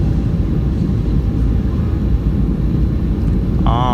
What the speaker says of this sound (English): flaps being extended again.